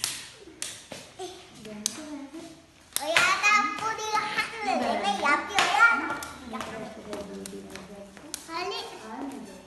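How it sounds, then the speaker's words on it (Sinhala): A group of young children claps their hands in a classroom, a loud burst of scattered clapping with children's voices and an adult talking around it. "කො බලන්න ක්ලැප් එකක් දෙන්න හැමෝම."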